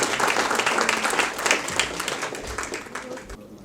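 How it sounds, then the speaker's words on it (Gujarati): An audience applauds to welcome a poet on stage at a Gujarati literary program, a dense, continuous round of clapping close to the microphone that lasts throughout. "ખૂબ તાળીઓના સન્માન સાથે"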